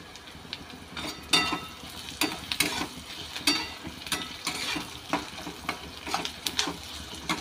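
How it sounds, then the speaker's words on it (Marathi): Tomatoes stirred into fried onions in a pan for upma, giving a soft steady sizzle broken by repeated scraping strokes of a spoon against the metal, close and moderately loud with no talking. "टोमॅटो आपण थोडासा परतून घेऊया"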